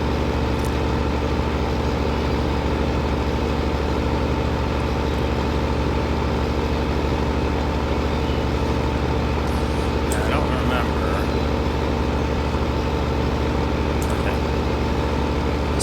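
A tractor fitted with a combine header drives into a farm field in a video game set on an American coastal map, its engine giving a steady, loud, unbroken drone throughout with faint clicks.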